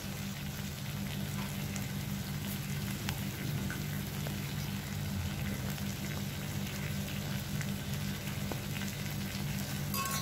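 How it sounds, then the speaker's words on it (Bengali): Spices with chili powder and cumin powder fry in a pan for potol bharta, giving a steady, even sizzle and crackle throughout, close and without speech. "আমি এবার একবারে মশলাটাকে কষিয়ে নিচ্ছি"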